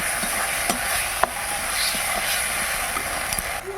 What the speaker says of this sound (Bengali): ঝিঙে আলু মশলাতে কষে নেবো ভালো করে